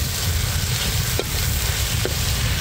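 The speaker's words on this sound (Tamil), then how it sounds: "இதே சேர்த்து வதக்கிறோம்." Fenugreek leaves sautéing in a pan, a loud continuous close sizzle with two brief scrapes of a utensil, no talking.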